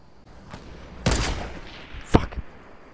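Gunfire in a Fortnite match: a few sharp shots with a burst near one second and a single loud crack around two seconds, standing out over a low, quiet background.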